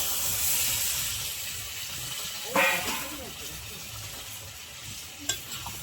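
Jackfruit and potato cook with spices in a pan, a soft continuous sizzle with occasional scrapes and knocks of a stirring spoon, fairly quiet throughout.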